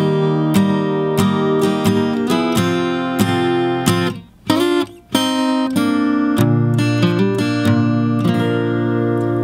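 A bright strummed and picked capoed guitar plays a lively country-style passage, with ringing chords and bending, pedal-steel-like lead notes, pausing briefly midway.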